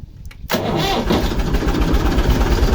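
A Massey Ferguson tractor engine cranked by its starter catches abruptly after a brief whir and settles into a loud, steady diesel idle close by, with no talking.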